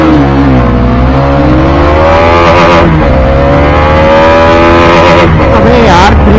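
Apache RR310 and Dominar 400 motorcycles roar side by side in a drag race, engines loud and close, rising in pitch as they accelerate hard, with voices briefly heard over them.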